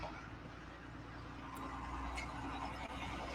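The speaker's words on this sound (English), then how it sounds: "there's a loud truck coming behind me" A loud truck passes behind, its low engine rumble and road noise filling the background steadily with a faint brake hiss partway through.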